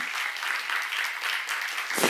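A church congregation claps together during a sermon, a dense, steady round of applause from many hands that fills the room at moderate volume, with a brief louder burst near the end.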